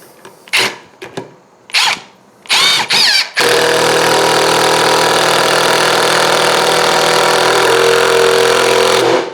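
A Ryobi impact driver with a 1/4 inch bit drives a fastener straight in without a pilot hole, giving several short loud bursts before settling into one long, steady, close-up hammering whir that then cuts off.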